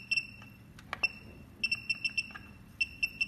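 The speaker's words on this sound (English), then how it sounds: "And if you don't like this buzzer, we can turn off it." Short electronic beeps from the buzzer of a KUAIQU SPS-C3010S 30V 10A DC power supply repeat in quick clusters, sharp and high-pitched, with brief pauses between groups over a faint low hum.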